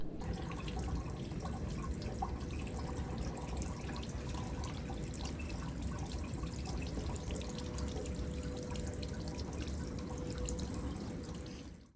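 Continuous splashing and dripping water nearby behind a frozen waterfall in a Minnesota winter, a steady watery patter with no talking.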